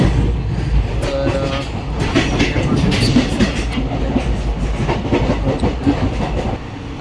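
A passenger train runs on its rails near Pune Junction. A steady, loud rumble and clatter of the moving carriages continues throughout, with no talk over it.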